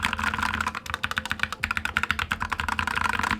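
Rapid, steady typing on a tray-mount mechanical keyboard, a dense stream of close, crisp key clacks with no pauses and no talking.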